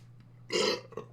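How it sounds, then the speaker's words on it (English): One short, loud burp rises abruptly in a quiet indoor room and is followed by a brief trailing voiced sound. "Oh, burp."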